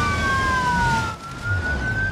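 Police car siren in the BeamNG driving game, a steady wailing tone sliding slowly down and back up, fairly loud and alone over a low road rumble.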